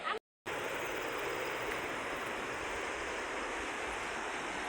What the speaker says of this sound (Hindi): ये देखो, इतनी बड़ी नदी है हमारे वहाँ